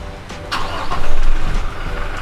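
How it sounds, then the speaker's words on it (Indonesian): A car engine is cranked with the starter from a cold, switched-off state, cranking briefly before catching and settling into a loud, close idle. "kemudian langsung kita starter"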